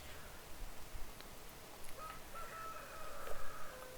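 A rooster crowing in the video game Stardew Valley, a thin drawn-out call that rises toward the end of the clip, faint over a soft ambient background.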